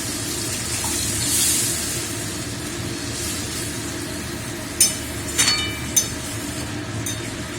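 Water poured into a pot of cooking mustard mutton curry gives a steady, close hiss and splash, with a few sharp clinks of utensils near the end and no talk.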